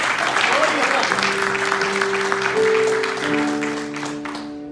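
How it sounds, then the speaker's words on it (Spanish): A church congregation claps steadily in a dense wash of applause, while sustained organ or keyboard chords play underneath and swell near the end. "Dale un aplauso al Señor."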